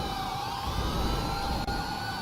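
Emergency siren from an ambulance being chased during a police pursuit in GTA V's LSPDFR mod, a loud continuous wail with layered sweeping tones that holds steady throughout, with a short break near the end.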